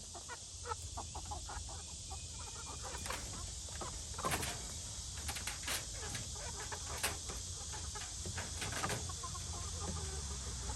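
Backyard chickens, a mix of olive egger and Ayam Cemani birds, cluck in scattered short bursts over a steady hissing outdoor background, with no talking.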